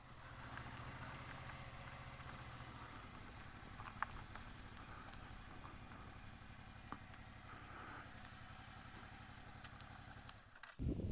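A Suzuki V-Strom 650 XT motorcycle engine idles steadily at close range, a low even rumble running throughout before a brief louder disturbance at the very end.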